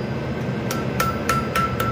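A blacksmith's hammer strikes steel while forging a dragonfly, five sharp ringing metallic hits spaced about half a second apart over steady workshop noise.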